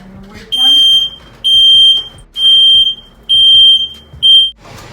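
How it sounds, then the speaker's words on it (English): A kitchen smoke alarm goes off during cooking, sounding five loud, piercing beeps in an even on-off rhythm, close by, with a brief voice at the start. "One time I cook in my life, and this is what happens. The alarm goes off."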